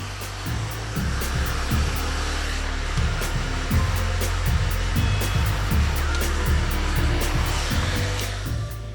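A hair dryer blowing hair dry, its loud steady whooshing roar running throughout, with brief rhythmic shifts in tone as the airflow is moved around the head.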